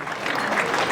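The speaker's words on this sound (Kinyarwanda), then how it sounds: "Amashyi menshi cyane kuri Bertrand ugiye kwisomaho" A short burst of many hands applauding at a wedding, a dense, even crowd clap heard close and alone.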